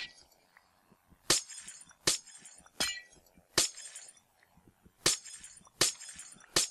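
Glass blocks in Minecraft break one after another with silk touch, about seven sharp shattering crashes at uneven intervals separated by quiet gaps.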